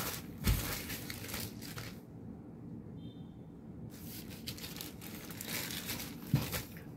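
A T-shirt package being unboxed, its plastic packaging crinkling loudly and close in bursts, with a quieter gap in the middle and a couple of sharp rustles at the edges.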